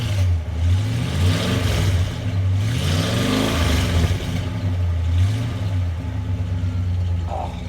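A classic Dodge Charger's engine is blipped through several rising and falling revs close by, a loud throaty roar that settles back toward idle between pulls.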